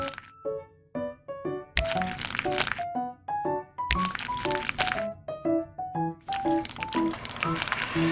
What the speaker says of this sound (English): Let's crush the Oreos and pour them into 6 separate bowls.